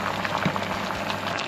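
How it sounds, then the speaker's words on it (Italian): Water boiling hard in a pot on a stove run from an inverter in a campervan built from a Fiat Ducato, a steady close bubbling and rolling simmer with no talk. "l'acqua bolle alla grande in pochissimi secondi"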